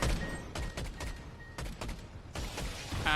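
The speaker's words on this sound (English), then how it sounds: "Fortnite has released some video of what some of the weapons can do. So the precision airstrike." A precision airstrike weapon fires in the video game Fortnite, landing as a rapid series of loud, heavy blasts in several clustered volleys with brief gaps between them.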